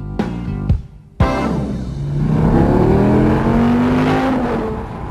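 A few sharp mechanical clicks, then a Dodge Viper's engine roars to life and revs loudly through a new exhaust, its pitch climbing and holding up close.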